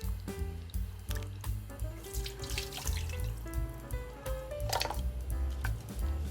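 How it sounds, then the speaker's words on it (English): Tap water runs and splashes over pork ribs being washed in a sink, a continuous watery wash with small drips, heard under prominent background music. "Wash the ribs well."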